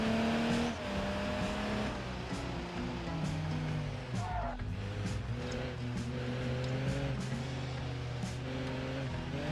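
A game car in BeamNG rallying at about 357 horsepower, engine roaring loudly and steadily with tire noise throughout, a brief rough disturbance midway as it crashes and rolls over.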